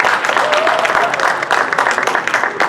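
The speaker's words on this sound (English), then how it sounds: "Jimmie Lunceford, give him a round of applause." An audience at a jazz festival kickoff held at a high school gives a loud, sustained round of applause, a thick continuous clatter of many hands with occasional louder bursts, close and filling the space.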